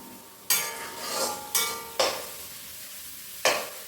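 Onions sauté in a pan for a chicken curry, a soft background sizzle interrupted by four sharp scraping stirs of a utensil against the pan.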